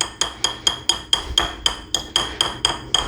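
A whisk raps against a mixing bowl about a dozen times in an even rhythm to shake loose stiff whoopie pie batter, each knock a sharp, close clink.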